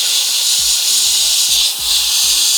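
Paint spraying onto a miniature, a constant bright airbrush hiss running throughout, with faint low ticks beneath and no voice.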